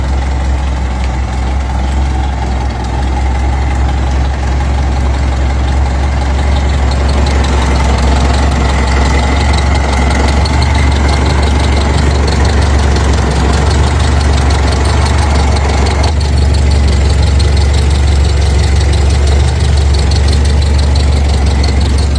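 A 1968 Toyota Corona with a 1.9-liter engine idles steadily, a continuous low mechanical rumble that holds close and even from start to finish with no voices.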